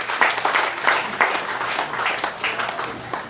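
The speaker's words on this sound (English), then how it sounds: "You deserve the first round of applause." A crowd at a presidential visit to new infrastructure in Berbice claps in a lively round of applause, individual hand claps standing out within the steady wash of sound.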